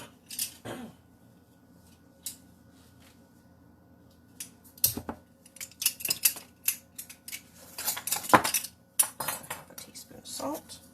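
Measuring spoons clinking and clattering while baking ingredients are measured, scattered metallic taps that grow busier in the second half amid quiet kitchen handling.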